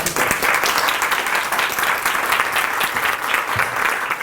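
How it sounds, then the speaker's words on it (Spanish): An audience applauding at a nutrition workshop for breast cancer patients, dense, steady clapping from a room of listeners that stays loud and even throughout. "Un fuerte aplauso."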